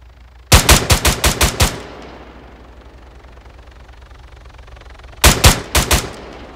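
Two loud, close bursts of automatic gunfire in Arma 3, each a string of about six sharp evenly spaced shots, separated by several seconds of quiet rumble.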